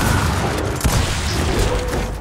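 Gunfire rattles in a Gears of War 4 match, a dense, loud barrage with a sharper blast partway through, heard over the game's constant noisy backdrop.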